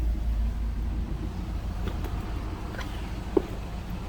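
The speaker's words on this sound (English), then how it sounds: "Listen to that thing run. Smooth, no crazy exhaust." A 1973 Chevrolet Nova engine idling smoothly with a steady low rumble close by, no voices, and one faint tap near the end.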